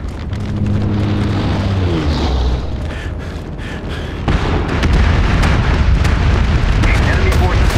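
A friendly bombing run in the video game MAG during a large battle: deep rumbling blasts and booms roll through continuous gunfire and battlefield noise, with a loud explosion surge midway and sustained rumble after.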